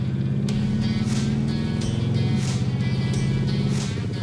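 A GT car's engine drones loudly and steadily at high revs as it strains to shift into third gear, a close, continuous mechanical roar with a slight change in pitch midway.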